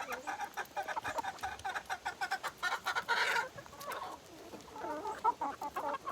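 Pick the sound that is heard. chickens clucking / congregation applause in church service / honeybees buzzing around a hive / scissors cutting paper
chickens clucking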